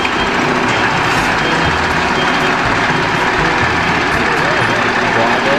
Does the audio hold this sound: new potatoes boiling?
no